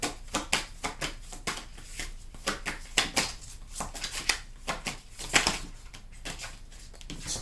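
Tarot cards being shuffled by hand, a close run of rapid riffling and flicking bursts repeating in an uneven rhythm, with no voices.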